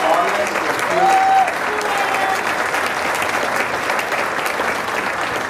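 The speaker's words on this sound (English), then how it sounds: "Let's give them another applause" A banquet audience at a chamber of commerce annual dinner applauds, a loud, continuous roomful of clapping that holds steady throughout, with a faint voice briefly audible near the start.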